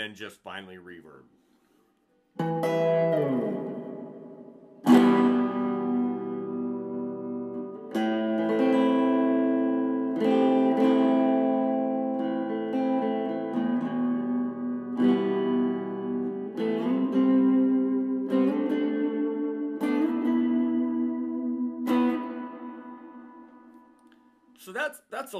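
A clean electric guitar through a Vox DA5 modeling amp's reverb effect plays sustained chords and single notes drenched in reverb, each strum ringing out with a lingering wash of tail.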